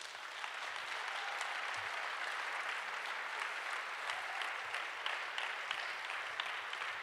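Audience applause fills a conference hall as three competition groups are invited onto the stage, a steady, dense wash of many hands clapping without a break for about seven seconds.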